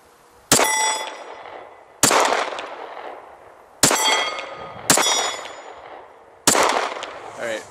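Five loud, sharp Glock 23 pistol shots fired at irregular intervals, each a sudden crack with a ringing metallic tail that decays before the next, with no talking.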